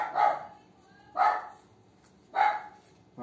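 A small dog barks three times at an even pace about a second apart, close and clear, with quiet room background between the barks.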